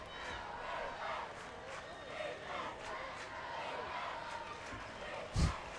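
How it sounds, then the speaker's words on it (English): A raucous crowd, led by the student section, roars at a Harlem vs Midland Valley high school football game in a sustained swell of cheering and shouting, with one sharp louder burst near the end. "crowd got really loud there."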